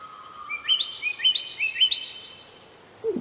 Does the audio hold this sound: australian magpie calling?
yes